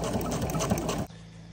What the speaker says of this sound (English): But Graham's sewing machine is pretty good too